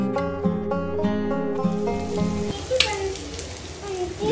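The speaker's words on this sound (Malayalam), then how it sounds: "അതിലേക്ക് നമ്മൾ ചതച്ച് വെച്ചിരിക്കുന്ന ഇഞ്ചി, വെളുത്തുള്ളി, പച്ചമുളകും കൂടെ ചേർത്ത് നന്നായിട്ടൊന്ന് വഴറ്റിയെടുക്കാം" Onion sautéing with crushed ginger, garlic and green chili, soft sizzling and stirring in a pan, while a tonal ringing sequence plays over the opening half.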